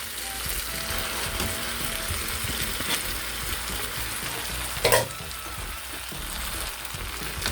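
Rice noodles (pancit bihon) stir-fried in a hot pan, a steady close sizzle and crackle with scraping and tossing, plus one brief sharp clatter partway through.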